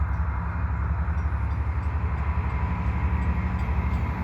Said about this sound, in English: This is the AMT or EXO commuter train headed into town, eastbound, just finishing its station stop